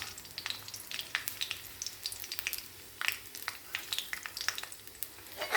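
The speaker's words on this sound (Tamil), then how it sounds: "இதெல்லாம் கொஞ்சம் நல்லா வறுபடட்டும்" Peanuts and red chillies fry in hot oil for pulikaichal tamarind paste, giving a steady crackling sizzle with sharp pops scattered throughout, close and fairly quiet, with no voices.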